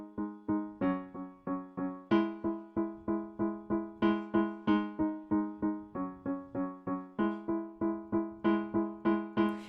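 A piano keyboard plays the catchy hook of a song as a steady stream of repeated, evenly spaced chords. Each chord decays quickly, the phrase keeps repeating, and no voices are heard.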